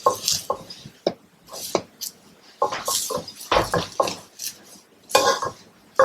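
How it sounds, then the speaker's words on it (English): A cooking pan used for Trinidad coconut pot bake is wiped, giving repeated scraping, rubbing and light clattering strokes in irregular bursts, close and fairly loud, with no talking. "I'm going to wipe the pan"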